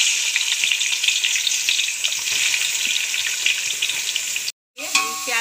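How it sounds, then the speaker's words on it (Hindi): Onions going into hot oil in a home kitchen for a wheat khichda dish, giving a steady close sizzle and crackle throughout, briefly cut off near the end and then resuming with some clatter. "तेल गरम की रखा है, उसमें अभी हम प्याज डाल देंगे"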